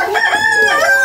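A rooster crows loud and close in one drawn-out call, a strained rising-and-falling cry at a backyard poultry area after a typhoon, with no other sounds over it.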